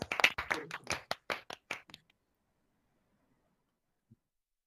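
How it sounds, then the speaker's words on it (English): Several sharp claps from an online engineering graduation audience on unmuted microphones, a brief, uneven burst of overlapping clapping that stops abruptly, leaving near silence with one faint tap afterward. "Please unmute yourself and cheer and clap for each other."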